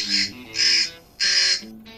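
An electronic bird repeller loudspeaker plays recorded crow caws in a fig orchard, three loud harsh squawks in quick succession, close and clear.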